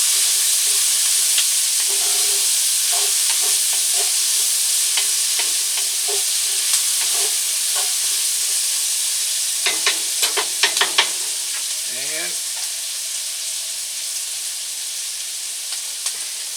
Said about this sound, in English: scrape up some of them little brown bits from the flour